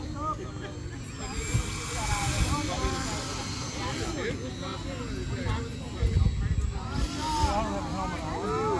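Radio-controlled model airplanes fly in streamer air combat, their small engines droning and whining at a distance under steady wind and outdoor hiss while people talk nearby.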